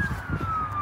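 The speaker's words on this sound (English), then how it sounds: "The police sirens kind of throw it off a little bit" A police siren wails faintly in the distance near a Chicago lakefront campsite, its single high tone gliding slowly downward over a low rumble of background noise.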